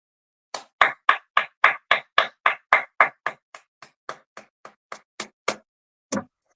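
One person claps alone, about fifteen crisp, close claps in a steady rhythm that slows and softens near the end, then a final single clap after a short pause.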